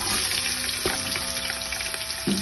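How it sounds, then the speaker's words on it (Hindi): Julienned carrots and capsicum sizzle steadily in hot masala in a pan, a continuous close frying hiss with a couple of soft clinks from stirring. "इसमें गाजर शिमला मिर्च डाल देनी है।"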